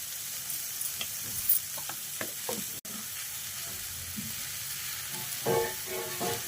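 Turmeric goes into a frying pan of bhujia with chopped green garlic, and an irregular low stirring and scraping sound plays over a steady soft sizzle of hot oil, close by, with no talking.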